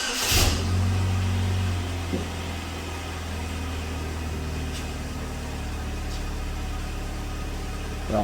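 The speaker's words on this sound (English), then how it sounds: "Apply parker brake, start engine, raise RPM to 1800." A 2007 Pontiac Solstice engine, logged with code P0442, runs with the parking brake set while held at a raised 1800 RPM. It makes a steady, close, low droning hum that stays even throughout, with no voices.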